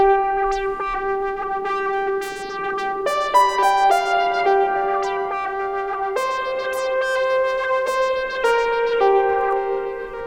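A sustained synth lead moves through held notes while a faster plucky arpeggio from a Synthi V flickers above it, layered together with a slightly distorted, echoing tone.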